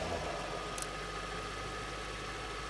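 An Audi RS 6 Avant C5 engine just after starting, settling into a steady low idle rumble heard close, with a brief rise at the very start and no talking.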